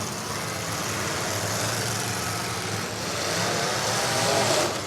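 A race car motor drones continuously in a loud mid-pitched rumble at an outdoor racing event, swelling slightly as it draws nearer, with no voices.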